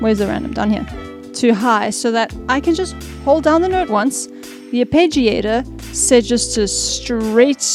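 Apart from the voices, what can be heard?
No everyday noises stand out.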